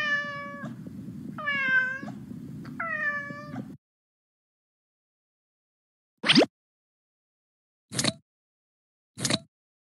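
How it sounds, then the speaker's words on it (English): A cat meows three times in a row, clear and close, followed by a few short sharp clicks after a pause. "Cat."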